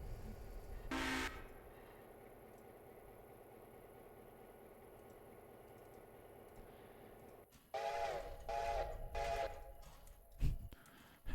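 A train passes in the railroad simulation game Railroader, with a short whistle blast early on, then louder rumbling and repeated horn or whistle tones near the end.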